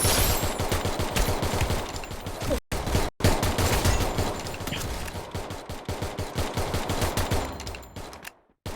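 Rapid automatic gunfire from the Free Fire Max mobile battle game rattles in dense loud bursts, broken by two brief silent gaps and ending in a short pause, with no talking.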